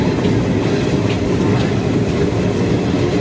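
A passenger train runs on rails near Chidambaram station, heard from on board as a loud, continuous rumble with faint rhythmic clatter of wheels, no talk.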